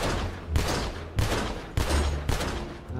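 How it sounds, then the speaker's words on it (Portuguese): Gunfire in the game GTA during a zombie roleplay session aimed at an armored vehicle, four sharp, loud shots at roughly even intervals, each followed by a ringing decay, with no talking over them. "Mete bala aí, pode meter bala"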